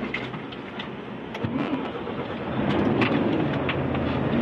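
A car engine cranks and starts during a test drive, then settles into a steady, rising idle hum, with no voices over it.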